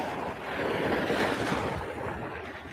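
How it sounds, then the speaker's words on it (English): Ocean waves break on the shore in a steady wash of surf, mixed with wind buffeting the microphone, continuous and moderately loud with no talk. "You guys can hear the waves or not?"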